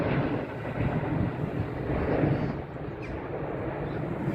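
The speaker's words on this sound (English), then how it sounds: "That was a plane." A fixed-wing airplane passes overhead at Kew Gardens, a broad, steady, distant roar that swells slightly and then fades, heard alone without talk.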